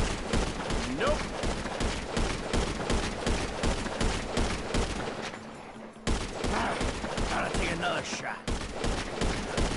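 Rapid bursts of gunfire from the video game Grand Theft Auto V, dense repeated shots running through most of the stretch with a brief drop-out midway, loud and close, with a voice talking over it.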